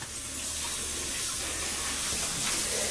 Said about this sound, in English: I'm going to let that simmer a little bit.